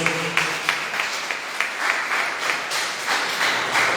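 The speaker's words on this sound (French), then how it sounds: "Can we applaud the Lord?" A church congregation applauds during a celebration service, steady rhythmic clapping from many hands at a moderate, even pace, filling the room.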